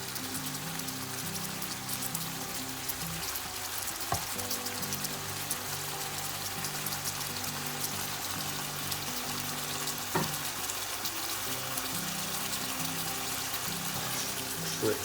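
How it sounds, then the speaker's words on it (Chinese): Sea bass with cherry tomatoes and scallions stir-fries in a hot pan, with a continuous crackling sizzle and a couple of brief clanks of the utensil, steady and close. "然后加上小西红柿，然后再把鱼放在里面，然后翻炒一下。"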